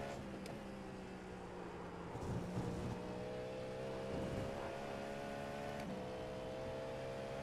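A race car engine drones steadily on the Mulsanne straight in a racing video game, a sustained high-revving tone with slight pitch shifts, moderately loud and continuous with no talk.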